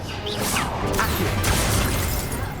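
A spell cast in Hogwarts Legacy lands with a crashing, whooshing burst of game effects over continuous mechanical rumble and clatter, loud and dense throughout the short stretch.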